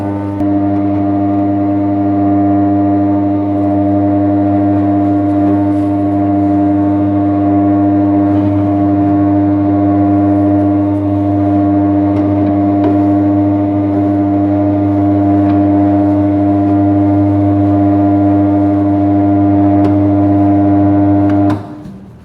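Dumpling skin machine (model MKS-TRT11) running, a loud, continuous mechanical drone with steady low hum and layered tones, unbroken for about twenty seconds before stopping abruptly at the end.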